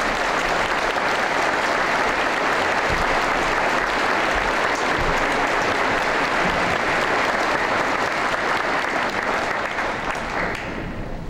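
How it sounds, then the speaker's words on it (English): An audience at the University of Maine at Fort Kent's 2003 commencement ceremony breaks into sustained, full applause for the platform party, the clapping holding strong for around ten seconds before tapering at the end. "Could we please have a round of applause for the platform party?"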